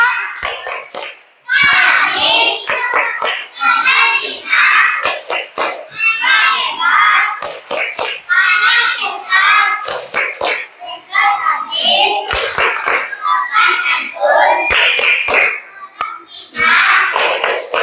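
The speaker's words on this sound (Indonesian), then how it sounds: "Tepuk tangan." A class of fifth-grade schoolchildren clap their hands and chant a cheer together, loud and close, the sharp claps mixed with children's voices throughout.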